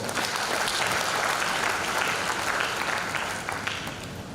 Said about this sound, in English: Shall we please give the clergy another round of applause?